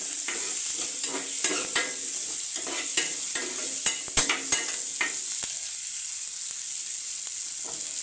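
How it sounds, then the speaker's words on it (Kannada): Chopped onion and tomato frying in a pan for khaju masala, a steady sizzle punctuated by frequent stirring clicks and scrapes of a spatula, near and without speech. "ಇವನು ಟೊಮ್ಯಾಟೊ ಮತ್ತು ಉಳ್ಳಾಗಡ್ಡಿನ ಚೆನ್ನಾಗಿ ಫ್ರೈ ಮಾಡಿಕೊಂಡ್ರೆ ಸ್ವಲ್ಪ ಟೇಸ್ಟ್ ಬರುತ್ತೆ ತಿನ್ನಲಿಕ್ಕೆ"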